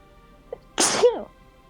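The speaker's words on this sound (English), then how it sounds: "this emotional scene makes me really sneezy" A single sharp sneeze bursts out after a brief faint sound, loud and close over a quiet background in a sci-fi shooter game scene.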